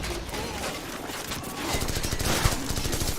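An RPG launching and exploding in Call of Duty 4 amid a chaotic firefight, the blast landing over a dense crackle of rapid gunfire that builds toward the end, loud and close.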